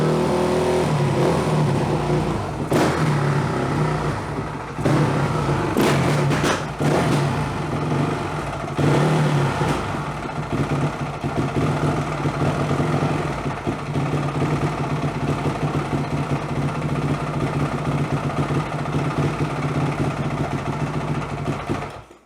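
A carbureted engine runs at a high idle, its idle set far too high: a steady, loud, close drone with a few brief revving bumps early on, then an even, sustained hum throughout.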